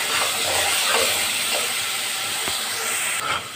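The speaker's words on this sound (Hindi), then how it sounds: "इसमें टमाटर पेस्ट शामिल कर देंगे। इसको भी अच्छी तरह से भून लेंगे।" Tomato paste frying in a pan over already-browned garlic and ginger, cooked for maash ki daal: a continuous, even hiss and sizzle, fairly close and steady throughout, with no talking.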